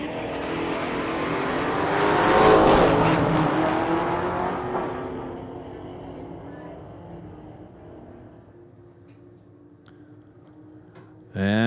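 A 1967 Ford Mustang and a 1967 Chevelle launch side by side in a street-legal drag race at Mission Raceway Park, a loud roaring engine surge that swells, then fades into the distance as a voice talks over it.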